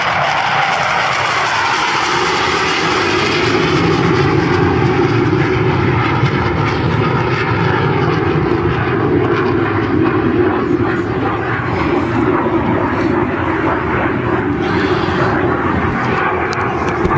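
A Hawker Hunter jet fighter flies a display at the East Fortune Airshow in 2009, its loud, continuous jet roar filling the whole stretch with a slowly shifting pitch.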